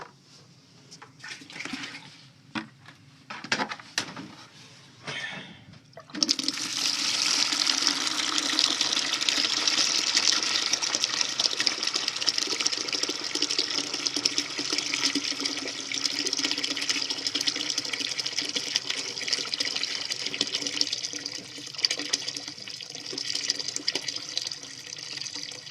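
Water rushes through a steam boiler drain being flushed for leak testing. A few scattered knocks and clanks lead into a sudden, loud, steady gush that continues unbroken, easing slightly near the end.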